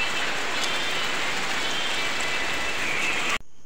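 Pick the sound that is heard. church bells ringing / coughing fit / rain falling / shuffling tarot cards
rain falling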